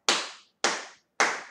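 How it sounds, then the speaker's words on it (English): Three sharp, separate hand claps in an even rhythm during a children's music and movement song, each crisp and close, with silence between them. "we clap,"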